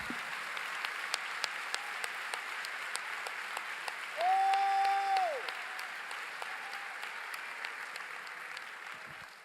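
A church congregation applauds steadily throughout, a dense even patter of clapping that swells briefly midway while a sustained tone sounds over it.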